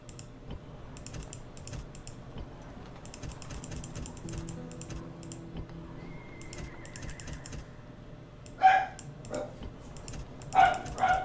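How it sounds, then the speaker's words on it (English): A dog barks in two short bursts late in the clip, close and fairly loud, over a steady background of keyboard typing and computer game sounds. "Couldn't have gone fucking 30 seconds more without barking, could it?"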